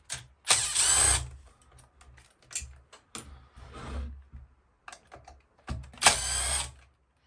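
Hand tool working the muffler bolts on a two-stroke strimmer engine: close, loud bursts of ratcheting and metallic turning in several separate runs with quieter handling clatter between.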